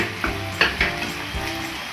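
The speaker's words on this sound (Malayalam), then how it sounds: "നന്നായിട്ടൊന്ന് ഇളക്കി യോജിപ്പിക്കാം." Boiled jackfruit seeds stirred and tossed in a hot pan for a Kerala stir-fry, a few close scraping stir strokes over a steady low sizzle, without any talk.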